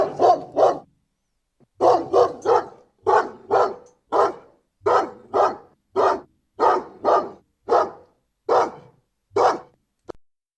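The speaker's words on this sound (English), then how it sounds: "So this is what dog barking would be." A dog barks loudly and close by in repeated bursts of two or three sharp barks, with brief pauses between each round.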